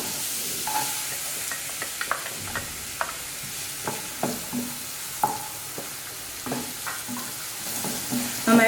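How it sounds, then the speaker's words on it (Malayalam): Chopped onion sautés in a pan for pizza sauce. A soft, low sizzle sits under repeated spoon scrapes and taps against the pan that come at an irregular rhythm, and no one speaks. "നന്നായി വഴറ്റി കൊടുക്കാം."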